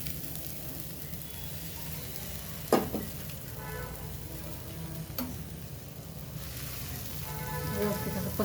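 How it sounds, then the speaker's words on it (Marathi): Marinated soybeans sizzle on a hot pan (tawa) in a steady, gentle frying hiss, broken by a few sharp utensil clicks and scrapes. "तवा गरम झाला त्याच्यावर टाकायचं"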